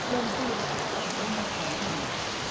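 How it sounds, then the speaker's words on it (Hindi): Steady, dense rain pours down without a break, a heavy continuous hiss that fills the whole scene. "बारिश बहुत तेज़ हो रही है"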